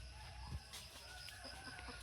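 Chickens walking around among areca palms on a farm, giving a few soft, scattered clucks at a distance over a quiet outdoor background.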